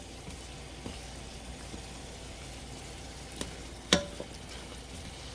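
Chopped onions sautéing in a soup pot for mulligatawny, with a low steady sizzle, a few faint taps, and one sharp metallic clank of a utensil against the pot.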